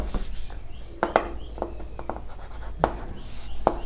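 Handwriting code with a pen or pencil on paper, a soft continuous scratch with a few sharper stroke taps, close and quiet, with no voice present.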